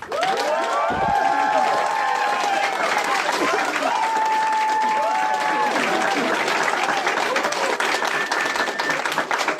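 Convention panel audience claps and cheers loudly to vote for a book, a dense sustained burst of applause with whoops and shouts throughout.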